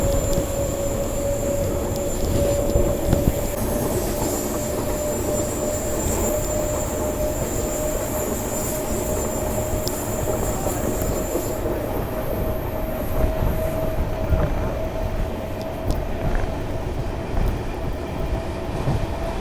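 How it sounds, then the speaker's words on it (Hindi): MGR Chennai–New Jalpaiguri superfast express taking the tight Barsoi curve, heard from on board: a loud continuous rumble of wheels on rails with a sustained high wheel squeal through the first part of the bend, then fading. "यहाँ पे ट्रेन 90 डिग्री का कर्व लेती है"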